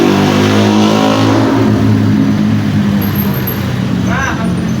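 A motorcycle passes on a road in Cikujang, Sukabumi, its engine droning loudly and close. The pitch shifts slightly as it goes by, with a faint passing whine near the end.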